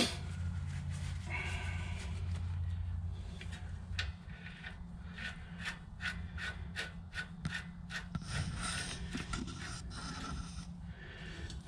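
A nut being tightened down on a trailer wheel bearing, with a low grinding rub at first, then a run of quick rhythmic metallic clicks like a ratchet, close up and fairly quiet.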